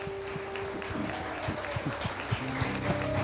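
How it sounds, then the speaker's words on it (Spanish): A church congregation claps in praise during a service, loose and moderately loud, with sharper individual claps standing out. A steady tonal hum and some background voices run underneath. "el aplauso al Rey de Reyes, el Dios Todopoderoso"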